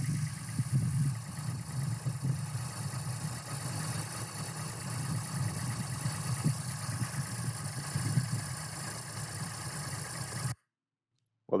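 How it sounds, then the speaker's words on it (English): An Acura MDX engine running rough after repairs, a steady mid-low idle drone with uneven knocks and surges throughout, close by, then cutting off abruptly near the end. "Let's check out our engine run video."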